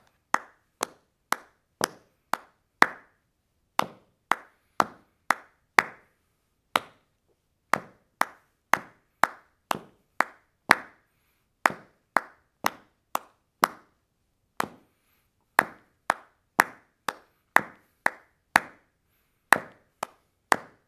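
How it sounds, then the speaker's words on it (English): Body percussion claps from a home music lesson: crisp, sharp claps repeat in steady rhythmic groups with brief pauses between phrases, close and clear with no talking. "I'm going to do claps."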